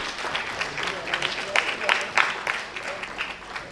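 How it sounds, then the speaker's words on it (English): Audience applause at an international symposium on gut health as a minister is escorted to the stage, a steady fairly soft wash of clapping from a crowd throughout. "A big round of applause, please."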